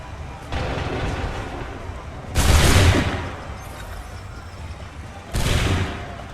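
Gunfire volleys in Assassin's Creed III, two sharp massed musket bursts a few seconds apart, each cracking loudly then rolling off over a rumbling battlefield background.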